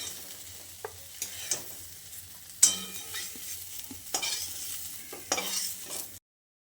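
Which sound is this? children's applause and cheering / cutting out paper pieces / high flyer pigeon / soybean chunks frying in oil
soybean chunks frying in oil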